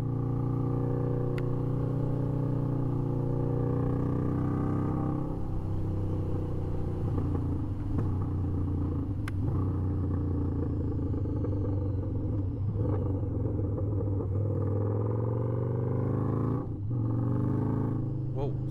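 A Harley-Davidson V-Rod motorcycle engine runs steadily with a deep, throbbing rumble, heard close and continuous, with occasional sharp pops and brief shifts in revs.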